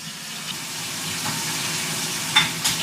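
Bacon sizzles in a pan while a home cook prepares a budget meal, giving a steady close frying hiss with a couple of sharper crackles near the end and no talking.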